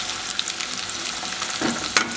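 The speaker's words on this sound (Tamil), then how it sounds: "நல்லா கிளறி இருக்கணும்." Garlic, ginger and green chili stirred and frying in a pan while cooking tomato pongal, a steady close sizzle with occasional scraping stirs and small pops.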